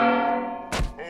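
A frying pan struck against an enemy in the VR game Boneworks: a sustained metallic ring cut by one dull, heavy thunk, close and alone.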